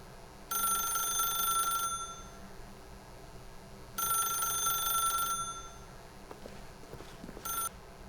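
An old-fashioned telephone rings in The Stanley Parable video game: two long trilling rings about two seconds apart, then a brief third burst, clear and fairly close over a low background hum.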